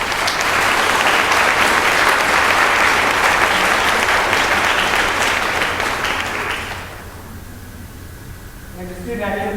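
A school concert audience applauds student orchestra officers at a high school spring orchestra concert, a loud, steady wash of clapping that fades out around seven seconds, after which faint tones and murmurs remain.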